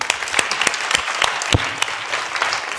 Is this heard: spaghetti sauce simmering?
no